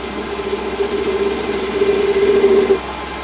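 A chamfering tool cuts a chamfer on the end of a part on a lathe, made for a mill tooling plate, giving a steady mid-pitched machining whine with a brighter tonal ring that swells toward the end before easing off; no talk.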